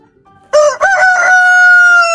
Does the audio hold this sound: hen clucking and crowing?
yes